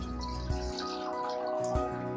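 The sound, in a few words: pouring water into a cooking pot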